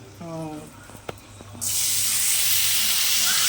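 Gobindobhog rice drops into a hot pan of oil, set off by a sudden loud sizzling hiss that continues steadily, after a brief hum and a few clinks, with voices just before.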